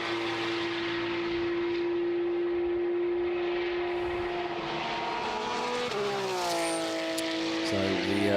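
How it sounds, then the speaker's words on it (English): Porsche race cars in a Porsche Sports Cup Suisse qualifying session at the Red Bull Ring howl with a sustained, steady engine tone, shifting pitch near the end as cars pass, under a commentator's voice. "the whole howling noise of these wonderful engines"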